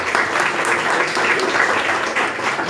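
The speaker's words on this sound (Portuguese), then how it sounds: "Palmas de vitória para Jesus." A Pentecostal church congregation in Curitiba, Brazil claps together in steady, dense applause that fills the room at an even loudness with no clear speech over it.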